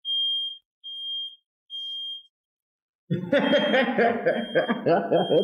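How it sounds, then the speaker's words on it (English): A household smoke detector sounds three evenly spaced high beeps alone, then falls silent before people start talking and chuckling nearby. "Is that a fire alarm? It's a fire alarm."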